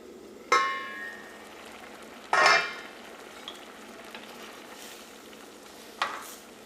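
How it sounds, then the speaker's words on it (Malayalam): Pineapple cooking in a pan with crushed mustard for pachadi: a soft continuous simmer underneath, broken by three sharp stirring scrapes and clinks of a spoon against the pan, close and fairly loud, with no talk. "ഇപ്പോൾ പൈനാപ്പിൾ വെന്ത് തുടങ്ങിയിട്ടുണ്ട്"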